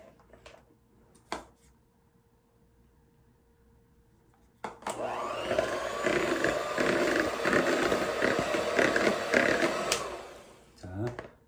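An electric mixer whips butter cream with egg for cookie pie, starting after a few quiet clicks and then whirring loudly and steadily for several seconds before stopping.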